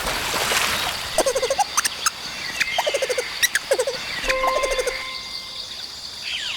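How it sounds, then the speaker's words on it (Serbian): A lemur gives a run of short chattering squeaks and clicks in rapid bursts, fairly close and alone, with rustling and faint background noise between calls. "Kakav zvuk lemur proizvodi?"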